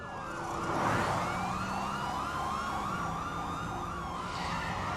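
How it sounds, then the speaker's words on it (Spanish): A police car siren wails in repeating rising-and-falling sweeps over traffic noise, swelling briefly louder before holding steady at a moderate distance. "Cuando el hombre escuchó la sirena,"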